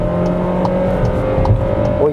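Volkswagen Taos Highline under full-throttle acceleration from 60 km/h on a road, engine note rising steadily up close, with a voice talking over it.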